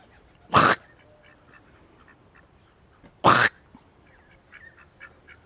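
A person imitates a duck's quack with two short, loud honking calls a few seconds apart, beside a park pond with ducks, faint bird calls in the background.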